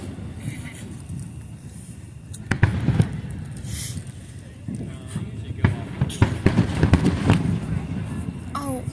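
Independence Day fireworks burst over Washington DC, several sharp pops and booms scattered at a distance, some partly screened by trees, with wind noise and people chatting nearby.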